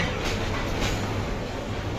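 A long, crowded Bangladesh Railway train with people riding on its roof rolls into the Sreepur station platform, producing a loud, continuous, close rumble with a faint rhythmic rattle of wagons and no clear voices.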